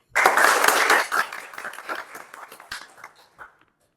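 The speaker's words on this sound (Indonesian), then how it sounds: "kasih aplaus dulu" A lecture audience breaks into a burst of clapping that starts full and dense, then thins out into scattered claps before stopping after a few seconds.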